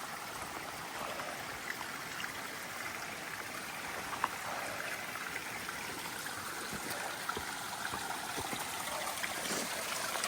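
A small stream along Forney Creek Trail trickles and burbles steadily, soft and continuous, with no voices.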